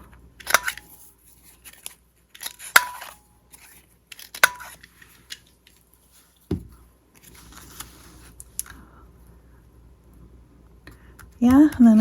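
Scissors trim paper scraps for a journal booklet in a few sharp, separate snips spaced across a quiet room, followed by a brief rustle and a voice at the end.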